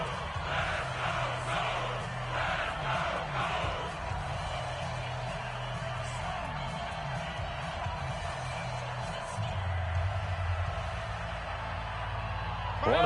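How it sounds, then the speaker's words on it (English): Stadium crowd noise from a football video game in a fourth-quarter NFL matchup between Indianapolis and Cleveland, a steady loud roar of fans swelling toward a big third down, continuous throughout with a rise at the end. "The crowd getting into it as we come up on a big 3rd down."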